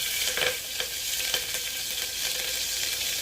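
Ginger and green chili frying in a pan, a steady bright sizzle with a few soft stirring scrapes and clicks, close and continuous with no talking.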